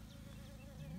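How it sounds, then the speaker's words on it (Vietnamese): Honeybees collect nectar in a squash garden, a continuous droning buzz with a low hum rising slightly near the end, close and steady. "Rất nhiều nhiều ong"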